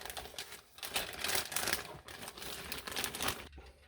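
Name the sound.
unwrapping a model kit part from its plastic bag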